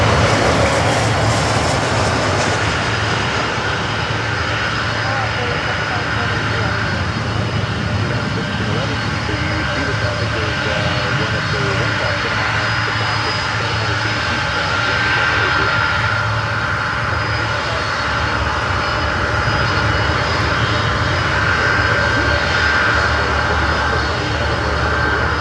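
Jet airliners arriving at Miami airport during a European arrival rush, heard as a steady, loud, broadband engine roar and rushing whine that holds throughout with no break.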